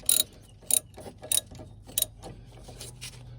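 Four distinct clicking bursts are heard up close, evenly spaced about half a second apart, followed by softer clicks. They come from a ratchet turning the rear brake caliper adjuster on a 1990-2005 Mazda Miata.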